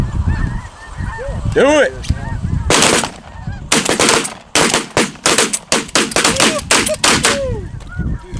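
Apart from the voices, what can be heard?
snow geese honking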